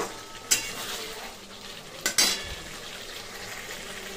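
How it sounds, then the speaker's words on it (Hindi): Masala frying in oil in a pan for a jackfruit curry, a soft steady sizzle with a few sharp metal clinks of stirring near the start and middle. "मसाला से तेल छोड़ रहा है, इसका मतलब है कि मसाला अच्छा से भुजा रहा है"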